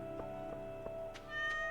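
A cat meows in the Stardew Valley video game, a few short, soft mews spaced through a quiet in-game scene with faint background music and no talk.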